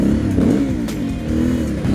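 An Aprilia Shiver 900 motorcycle engine revs close up with a rough, pulsing growl that rises and falls briefly, with no voices.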